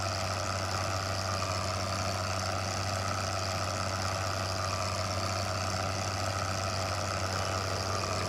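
A tractor engine in Farming Simulator 15 pulls a cultivator through a field, a steady, continuous drone with a low hum that holds even and loud throughout, with no talk.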